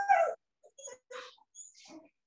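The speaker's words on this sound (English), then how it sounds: "So that sounds like Dolores's dog." A small dog whimpers and yips in a few short, high-pitched bursts separated by brief pauses, fairly close and clear, with no talking.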